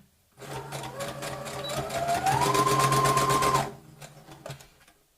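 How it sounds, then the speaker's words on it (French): A sewing machine runs steadily for about three seconds, stitching fabric for a pyramid-shaped zip pouch. Its close, rapid mechanical whir speeds up midway, then stops abruptly and leaves a few quiet handling clicks. "je vais le coudre avec la machine à coudre à 1 cm environ"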